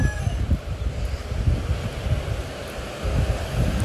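Sea waves washing onto a shore with gusty wind buffeting the microphone, a rough, rumbling surge that swells and eases over a few seconds, close and without speech.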